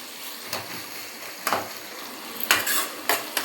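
Sliced onions sautéing in a pan for chicken mandi, a low sizzle under repeated spatula scrapes and clinks against the metal, spaced irregularly and growing livelier toward the end.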